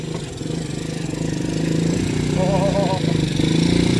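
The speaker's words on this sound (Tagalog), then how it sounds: "May motor, ano?" A motorcycle on a narrow road, its mid-pitched engine chugging steadily and growing louder as it approaches and passes close by, with voices talking over it.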